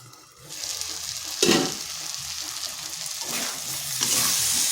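Kohlrabi cooks in a pan over medium-low heat, its loud sizzling spitting in surges, with bursts of stirring and the scrape of a utensil, and no talk.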